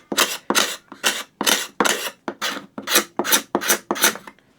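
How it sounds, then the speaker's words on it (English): A square-edged scratch stock, used like a card scraper without a hook, rasps over wood in about eleven even, close strokes, each a dry, bright scrape separated by short pauses. "We can scrape it, and it's that system of the square 90 degrees that you have with a card scraper."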